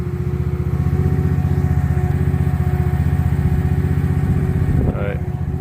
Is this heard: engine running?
yes